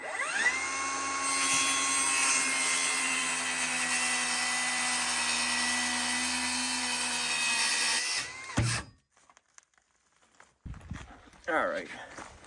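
A power saw runs steadily for about eight seconds cutting through a taped, veneered board, then stops abruptly, leaving near silence and a few faint handling noises.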